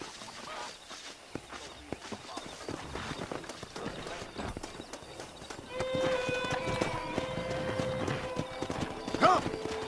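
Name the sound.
pack of wild horses in Red Dead Redemption video game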